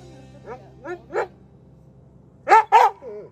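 A dog in California barks close by: a few short yips first, then a louder double bark near the end, over a faint steady hum.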